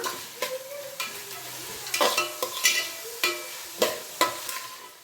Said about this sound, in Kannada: ಚೆನ್ನಾಗಿ ಮಿಕ್ಸ್ ಮಾಡ್ಕೊಂಬಿಡೋಣ